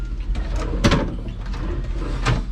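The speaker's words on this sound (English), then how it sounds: "there's 2 drawers here." A drawer in a cruise ship suite cabin aboard the Carnival Elation slides and knocks, with two short scraping thuds about a second and a half apart over quiet room tone.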